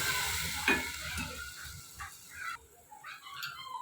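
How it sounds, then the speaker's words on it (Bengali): Ginger and garlic fry in oil with a soft, fluctuating sizzle and spatula stirring, followed by a quieter stretch as water goes into the pan. "তো আমি আদা রসুনটাকে একটু ভেজে নিচ্ছি।"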